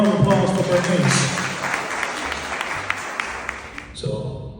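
A small open mic crowd at a holiday shop and sip event gives Bernice a round of applause that fades out over a few seconds, with voices talking over it near the end.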